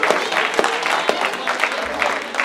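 A comedy club audience claps loudly and densely throughout, a steady wash of many hands with a few sharper individual claps poking out, close and continuous.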